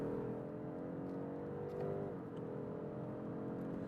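A 2023 BMW 530e xDrive hybrid sedan drones steadily and accelerates in manual mode, its pitch shifting as gears change via paddle shifters, heard from inside the cabin with a continuous whirring hum.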